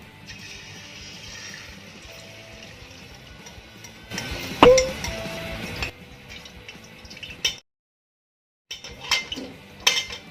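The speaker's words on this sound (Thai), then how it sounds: "ตั้งกระทะครับเทน้ำมัน รอให้มันร้อนสักนิดนะครับพี่น้อง" A metal pan set on a stove with cooking oil poured in, clanks and scraping under a hissing, sizzling bed of noise, with a sharp knock midway and a brief silence near the end.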